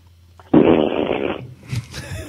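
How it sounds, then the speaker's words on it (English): A fart played back through a phone speaker: one drawn-out, buzzy, fairly loud blast lasting about a second, followed by brief muffled talk. "Did you seriously just fart into your phone, bro?"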